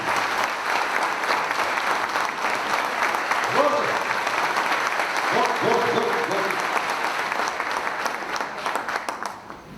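An audience claps loudly for Gopal Shetty, a thick, sustained roar of applause with voices calling out briefly in the middle, tapering slightly toward the end.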